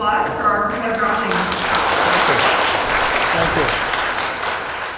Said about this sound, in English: So please give us a round of applause for our Professor Onley.